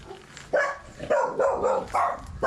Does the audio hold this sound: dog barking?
yes